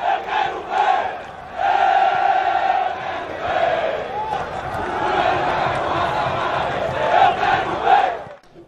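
Football fans chant and roar together in a stadium crowd at a Campinense versus Botafogo final, a dense, sustained wall of massed voices with rising, rhythmic surges throughout.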